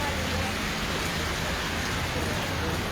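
Steady unseasonal rain falling over rural fields in Halvad, Gujarat, a dense even hiss of drops on surfaces that holds constant throughout, with no voices.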